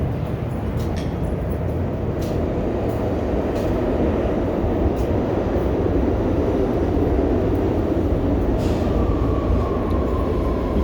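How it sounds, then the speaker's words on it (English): Rumble of a New York City subway train running underground beneath a Manhattan street, a steady low roar filling the whole stretch with faint street noise above it. "You can actually hear the subway underneath."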